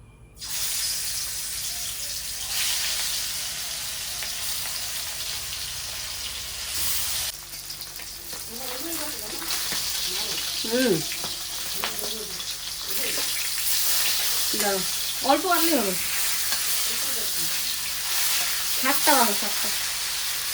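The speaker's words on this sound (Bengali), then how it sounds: "এবারে মাছটা ভেজে নেব" Fish sizzles steadily in a pan of hot oil, a continuous close frying hiss with clinks and stirring scrapes over it and faint household sounds in the background.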